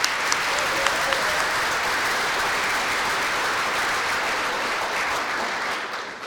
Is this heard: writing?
no